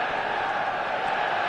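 A packed stadium crowd at Old Trafford in a football video game makes a steady, dense roar that holds at an even level throughout, with no single voice standing out.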